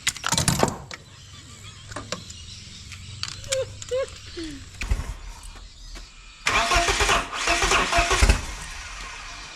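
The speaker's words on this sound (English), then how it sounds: "Engine's so aggressive, it needs to calm down." A turbocharged BMW M44 four-cylinder in an E36 cranks and catches, with short bursts, clicks and a quieter pause before the engine roars up loudly and revs near the end.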